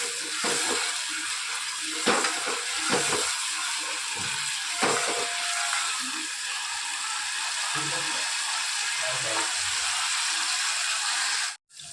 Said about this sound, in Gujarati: લસણ, ડુંગળી અને મરચાં. સરસ આપણે એને મિક્સ કરી અને સરસ શેકાવા દઈએ.